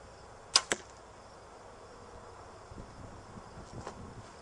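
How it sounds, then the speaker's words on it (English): Two sharp, quick clicks close together near the start, the release of a 2008 Bowtech General compound bow, then quiet outdoor ambience with faint insect buzz and a few soft ticks. "That was it, just a click, and that's probably from the rest."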